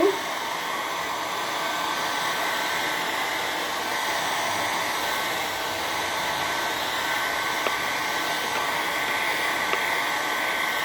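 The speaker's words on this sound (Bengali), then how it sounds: "আর এখন চুলটাকে শুকাচ্ছি" A hair dryer blowing on hair after a bath, a loud, steady whooshing drone with a constant whine that runs unbroken throughout, close and with no voices.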